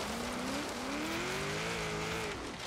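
A 2002 Chevrolet Corvette Z06 races uphill in a hill-climb time-attack video game, its engine holding a steady, rising howl with a brief gear change and a faint tyre hiss, loud and alone.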